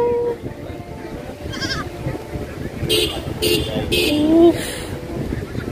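A goat bleats a few times amid outdoor chatter on Saint Martin's Island, Bangladesh, its wavering cries rising above people talking nearby.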